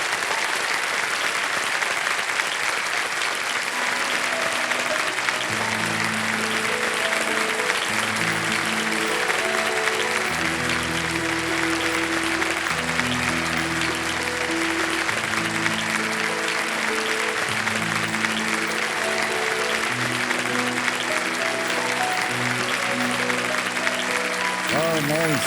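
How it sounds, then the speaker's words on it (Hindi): Studio audience on the KBC game show set clapping continuously, a dense sustained wash of applause with a musical score rising underneath, and a voice briefly heard over it. "ताली बजाएं"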